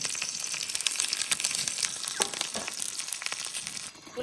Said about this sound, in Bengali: আর বাকি মাছগুলো এরকম করে সব ভেজে নেবো।